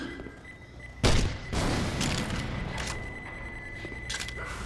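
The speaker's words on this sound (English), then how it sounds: "Throwing a pipe bomb." A pipe bomb detonates in Left 4 Dead 2 with a sharp, loud burst, followed by a rumbling wash of gameplay noise and a few smaller bangs.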